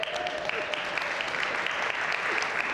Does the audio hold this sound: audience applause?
yes